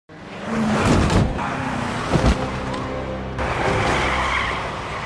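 In a TV series scene, a car skids with screeching tires and strikes a mayor crossing the street. A loud, close skid with a short impact-like burst midway, then a steady roaring engine rush.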